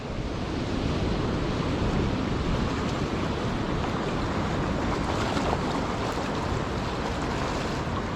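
Strong wind roars continuously along the Lake Erie shore near Erie, Pennsylvania, a dense broadband rush of gusts and buffeting close to the microphone, with surf blended in and no voices.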